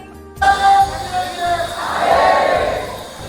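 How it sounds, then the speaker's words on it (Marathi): A large crowd gathers at a main temple on New Year's Day, a dense, loud wash of many voices with shouts rising over the murmur, growing fuller toward the end. "आज नवीन वर्षामुळे एवढं गर्दी आहे बरं का पब्लिक"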